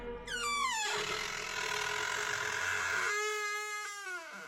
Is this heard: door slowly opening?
yes